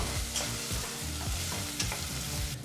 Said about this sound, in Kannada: ಬಿಸಿಯಾದಂಥ ಎಣ್ಣೆಗೆ ಬಹಳ ಚಿಕ್ಕದಾಗಿ ಕಟ್ ಮಾಡಿದಂಥ ಒಂದು ಈರುಳ್ಳಿನ ಹಾಕಿ ಮೀಡಿಯಂ ಫ್ಲೇಮ್ನಲ್ಲೇ ಎರಡು ನಿಮಿಷಗಳ ಕಾಲ ಈರುಳ್ಳಿನ ಫ್ರೈ ಮಾಡ್ಕೋಬೇಕಾಗತ್ತೆ